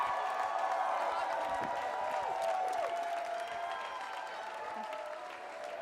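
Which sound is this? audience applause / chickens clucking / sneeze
audience applause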